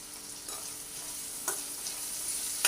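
Curry leaves get stirred into batata poha frying in a pan, a soft steady sizzle close by with a few light scraping strokes of the spoon, no voices.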